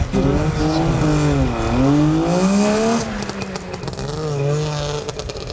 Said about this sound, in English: This old Saab can probably not go nearly as fast as the car that started before it